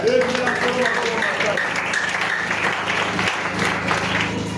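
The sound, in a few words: congregation applauding the Lord in church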